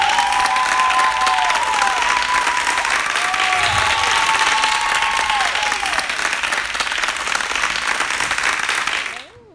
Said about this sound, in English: Everyone give her a warm welcome of applause.